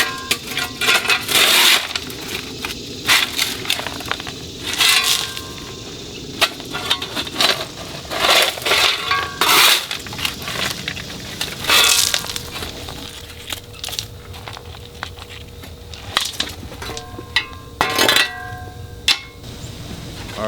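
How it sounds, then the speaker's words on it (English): Rock and gravel being shoveled off a pool filter pad, with repeated scraping scoops and gritty crunches in irregular bursts, close and fairly loud over outdoor background. "getting rid of all this rock and gravel. So, pretty simple. Just going to use a shovel"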